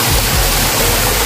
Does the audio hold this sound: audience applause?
no